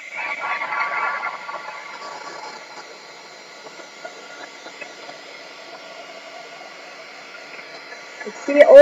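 A hair dryer blows a steady, soft hiss while drying paint on a sweatshirt, loudest at first and then quieter, ending with a brief close clatter.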